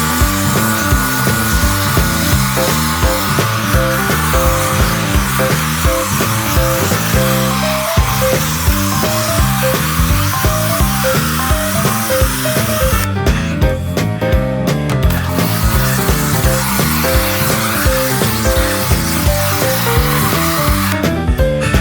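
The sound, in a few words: pressure washer spraying snow foam over an MGB car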